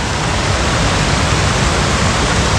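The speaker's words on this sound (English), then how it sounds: "Climb the waterfall" A small waterfall of clear stream water pours in a dense, steady rush. The sound is close and loud, with no talking.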